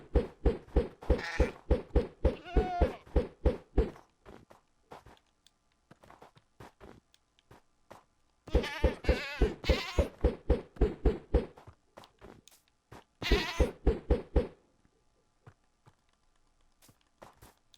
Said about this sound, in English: Come here, goat. You're my food source.